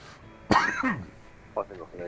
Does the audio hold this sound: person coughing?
yes